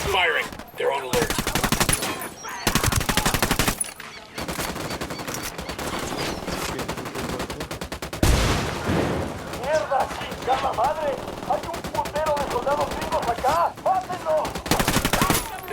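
Gunfire in Ghost Recon Wildlands, with sustained automatic bursts and single shots cracking in dense volleys, loud and near, broken by brief pauses while voices talk over the shooting.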